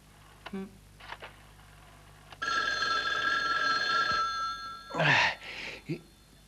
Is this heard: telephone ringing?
yes